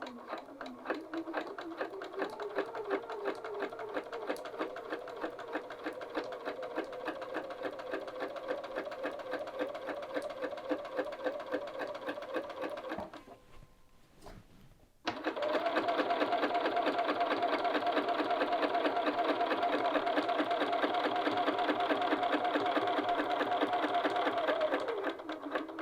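Sewing machine stitching across fabric with a long stitch length: a steady, rapid mechanical whirr runs for about thirteen seconds, pauses briefly, then restarts louder and closer for another ten seconds, with no talk.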